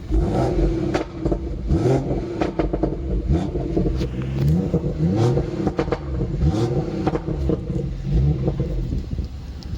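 A BMW M140i Shadow Edition engine revs repeatedly through an aftermarket sports exhaust with a deep, throaty note, rising and falling in short bursts, loud and close with no talking.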